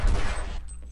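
In Half-Life, a security guard fires a single gunshot: a loud, close blast that rings out and fades within a second.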